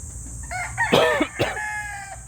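Talisay gamecock rooster crows once, close and clear, a rising then falling call lasting about two seconds over a steady background hum.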